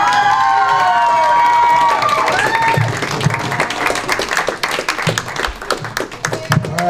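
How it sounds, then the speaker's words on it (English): Audience applause and cheering at a high school story slam, a dense wash of clapping that builds after a few seconds and fills the room, with voices mixed in throughout. "One more round of applause for our judges, for our storytellers"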